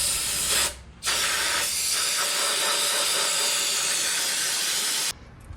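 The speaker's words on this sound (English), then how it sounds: "you saw me using brake cleaner when cleaning off this gear oil" Non-chlorinated brake cleaner sprays onto gear oil in a loud, close, continuous hiss. It breaks off briefly once near the start, then runs steadily for several seconds before cutting off.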